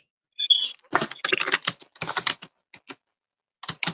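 Computer keyboard typing in a quiet room, a few quick bursts of keystrokes with short pauses between them, close and fairly soft, no talking.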